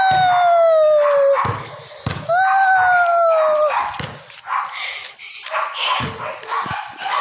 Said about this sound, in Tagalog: Yan yung aso namin,